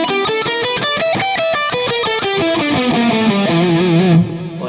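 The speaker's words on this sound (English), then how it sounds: "the venerable old blues pentatonic, which is the 5-note scale altered by adding a flatted fifth" Electric guitar with distortion and a chorus-like effect plays a blues pentatonic scale with an added flatted fifth, a quick run of distinct picked notes falling steadily in pitch, loud and alone with no talking.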